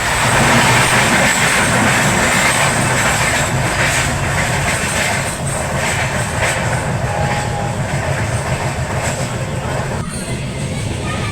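A loud, steady rumble and clatter comes from the Mandavi Express as it pulls away after a crossing on its run toward Khed. Voices murmur faintly beneath the noise of the train.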